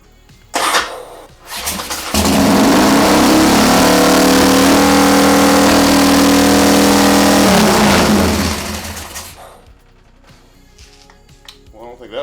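A chopper motorcycle engine cranks, catches and fires up, running loud and close with revving for several seconds before winding down to silence, with a voice speaking briefly near the end.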